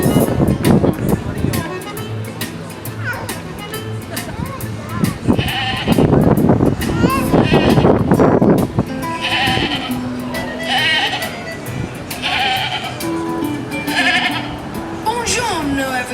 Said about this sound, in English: this is Gina, my pet goat